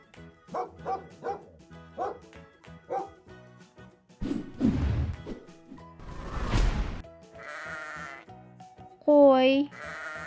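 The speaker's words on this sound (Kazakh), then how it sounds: "Қой." A sheep bleats in several drawn-out calls near the end, following a run of dog barks and a burst of noise earlier on.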